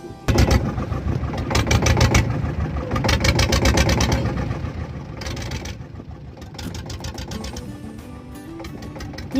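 A motor boat's engine drones steadily on the water near Vizag Colony, Nalgonda, with a close mid-pitched chugging hum and a rapid rattling pulse that swells and eases in bursts. There is no speech.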